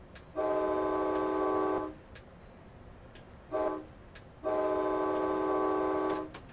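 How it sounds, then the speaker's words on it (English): A train horn sounds in the Train Simulator 2017 video game in three chorded blasts, long, short, long, each loud and steady, separated by quiet gaps with faint clicks. "when you're driving a train, all you want to do is blow the horn."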